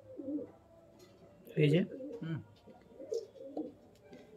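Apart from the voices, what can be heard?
pigeons cooing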